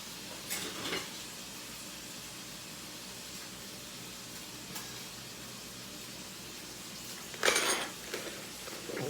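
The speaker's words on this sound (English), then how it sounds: "I need a little bit heavier spoon to stir that" A heavy spoon stirs coney sauce in a pot, giving faint scraping and occasional sharp metallic clinks. A louder clatter comes near the end over a low background hum, with no talking.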